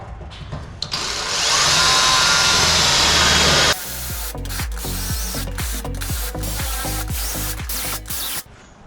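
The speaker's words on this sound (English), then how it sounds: "drill these last couple spot welds out" A drill bores out the last spot welds on the parcel shelf of a 1969 Holden HK Premier, a close harsh grinding whir that stops abruptly and gives way to a rapid run of sharp, rhythmic clicking bursts.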